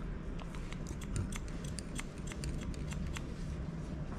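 Rapid, crisp snipping of scissors cutting hair for an undercut, close and steady, repeating snips over a constant background hiss with no talking.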